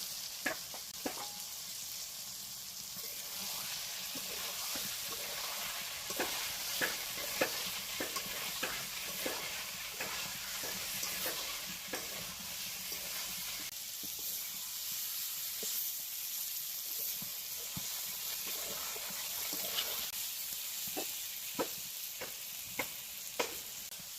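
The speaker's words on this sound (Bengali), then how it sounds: "এখন সেদ্ধ আলুগুলো দিয়ে দিই" Boiled potatoes frying in a cooked spice paste for Bengali aloo dum, with a steady sizzle and frequent sharp scrapes and knocks of a spatula stirring the pan, no voices.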